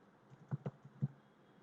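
Three or four soft, separate keystrokes on a computer keyboard, close and quiet, spaced irregularly over a faint room hiss with no talk.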